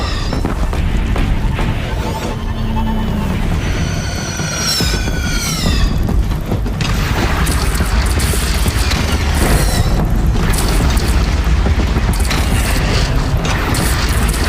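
Cannon fire in the Horizon Zero Dawn video game booms and crashes under a dense, loud battle din of mechanical clanks and impacts that carries on throughout.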